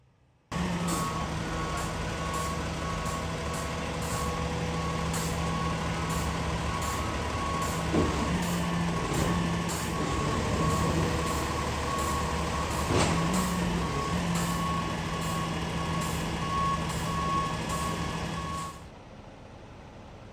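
A tow truck delivering a crate reverses with a steady, regularly spaced beeping alarm over its idling diesel engine, punctuated by a couple of air-brake hisses, before the beeping stops and the engine drones on.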